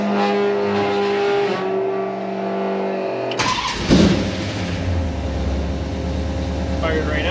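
A 1968 Plymouth Satellite engine, long abandoned, cranks and catches, then settles into a steady, rumbling idle close by.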